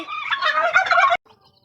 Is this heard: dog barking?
no